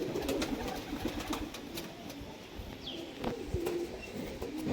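Pigeons cooing softly over a low background rumble, with a few faint chirps scattered through; no voices.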